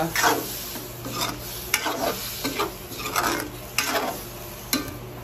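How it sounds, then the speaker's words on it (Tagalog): Shrimp curry simmering in a pan as the second pressing of coconut milk goes in, heard as close stirring and scraping strokes against the pan over a light sizzle, with no talking. "Ito yung pangalawang gata. Ilagay natin."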